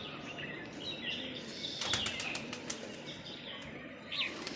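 A Punjabi Malbai pigeon, a white male, flaps its wings in a few quick close bursts, with faint chirps and handling noise around it.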